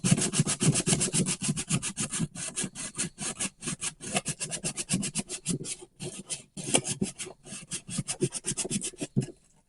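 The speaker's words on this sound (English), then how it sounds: "I'm sanding on the flat edge" Rhythmic scraping of sandpaper on the flat edge of a wooden Xbox 360 hard drive case, a steady series of back-and-forth strokes with brief pauses, close and fairly loud with no talking.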